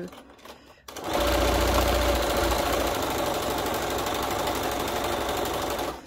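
Sewing machine stitching fabric for a quilt block, a fast steady mechanical chatter starting after a second of quiet and running continuously, close and loud.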